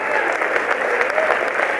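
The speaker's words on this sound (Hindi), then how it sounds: "जोरदार एक बार तालियां बजाए साहब।" A crowd at a Hindi poetry gathering claps loudly and continuously in a thick, even roar of hands that fills the short span.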